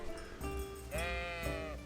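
Sheep in Kingdom Come: Deliverance bleat twice, with quavering, wavering cries heard up close over a faint, steady background.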